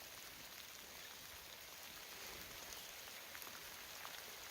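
Steady rain falls during a spring fishing trip at St. Regis, a dense, even hiss with faint scattered drop ticks, continuous and without voices.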